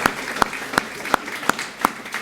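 An awards ceremony audience claps in a brisk burst, with sharp, evenly spaced hand claps standing out over a softer wash of applause in a hall.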